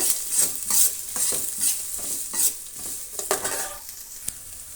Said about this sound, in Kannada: ಸಣ್ಣ ಸಣ್ಣಕ್ಕಿ ಕಟ್ ಮಾಡಿರೋದನ್ನು ಹಾಕೋಣ ಮತ್ತು ಹಸಿಮೆಣಸಿನ್ಕಾಯನ್ನು ಹಾಕೋಣ ಈ ಎರಡನ್ನು ನಾವು ಚೆನ್ನಾಗಿ ಫ್ರೈ ಮಾಡ್ಕೋಬೇಕು